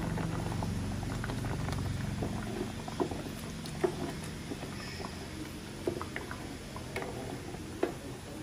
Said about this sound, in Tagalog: Pakuluin lang uli natin.